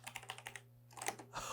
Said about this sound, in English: it's just typing itself